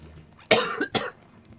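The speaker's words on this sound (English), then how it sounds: "Sorry, I keep coughing." Two short, close coughs from a gamer in quick succession, sharp and fairly loud, over a quiet background.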